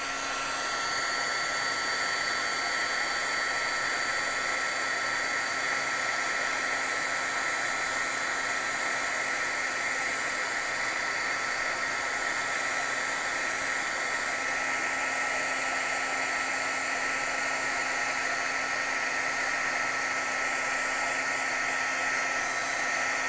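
A heat tool warming a snow effect on a handmade card blows a steady, unbroken whir with an even hum for over twenty seconds, close and constant, with no talking.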